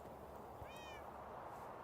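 A cat gives a single short, faint meow in a quiet indoor room, set against a steady background hiss.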